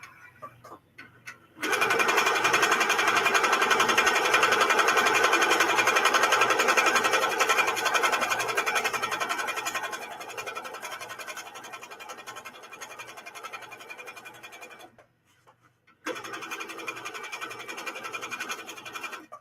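Sewing machine stitching meandering free-motion quilting through a wool-batted quilt: a fast, steady mechanical whir in long runs, loud at first, then softer, briefly stopping and starting again.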